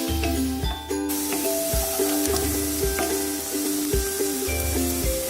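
Onion cooking lightly in a pan for chicken keema pasta, a steady close sizzle with crackling and repeated soft stirring scrapes at a regular pace.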